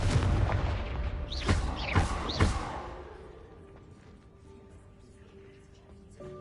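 Confringo spell blasts in the Hogwarts Legacy game land as three deep booming bursts about half a second apart, followed by fading rumble and a quieter game ambience.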